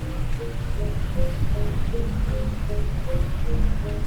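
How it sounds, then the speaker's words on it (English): Wind blows along a beach at Tanjung Benoa, Bali, a soft steady broadband rush mixed with distant surf, fairly quiet with no talking. "It's quiet and it's a bit windy."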